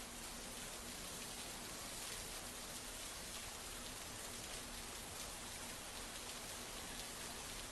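Heavy monsoon rain pours steadily over flooded Solapur, a dense, unbroken hiss of drops striking surfaces that stays loud and even throughout, with no voices.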